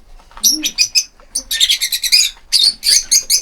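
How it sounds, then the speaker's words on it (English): Lively bursts of high, squeaky bird chatter from several small parrots, rapid chirps in clusters with brief pauses, close and loud. "Lovebirds. Well, they certainly had a lot to say for themselves."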